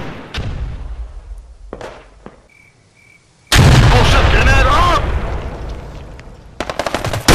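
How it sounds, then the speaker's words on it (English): Gunfire in a WWII video game: a few sharp isolated shots and a short tone, then a loud sustained burst of shooting and blasts for over a second, followed by scattered rapid shots near the end. "That was a shotgun."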